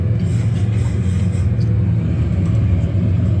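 Small aircraft engine on approach with the throttle coming back, heard as a loud, steady low droning rumble close by, with no talk over it.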